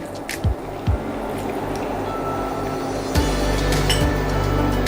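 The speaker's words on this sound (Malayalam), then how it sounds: "നമുക്കിതിലേക്ക് ഒരു കാൽ കപ്പ് വെള്ളം ഒഴിച്ചു കൊടുക്കാം" A steady sizzling, bubbling wash with a few soft splashes and drips as a quarter cup of water hits a hot pan of masala dosa filling, close and continuous.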